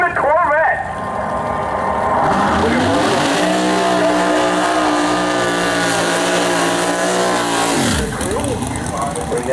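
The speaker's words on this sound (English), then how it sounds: "check out that big burnout in the Gobbler lane" A drag racing car does a big burnout in its lane, its engine roaring loud and sustained with screeching tires for several seconds before cutting off, while an announcer talks over the noise.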